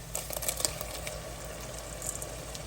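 Mutton frying in a pot with onions, ginger-garlic paste and turmeric gives a low, steady bubbling sizzle with light crackles and a few brief clinks near the start, with no talking.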